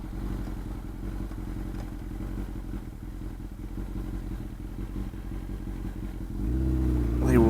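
A motorcycle engine with a newly repaired clutch idles with a steady clattering chug, then rises into a louder, fuller rev near the end; no talking over it.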